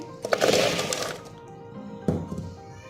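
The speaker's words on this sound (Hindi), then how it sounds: "अब हम चॉपर में प्याज डालेंगे।" An electric kitchen chopper cutting onions, a loud close whirring and clattering burst lasting about a second, then a quieter pause and a second short clattering pulse.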